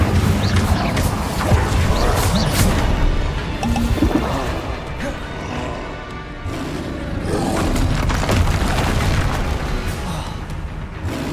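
Spell explosions and magical combat blasts from the Hogwarts Legacy video game, a dense, continuous barrage of booming bursts and crackling effects with game music and voices mixed throughout.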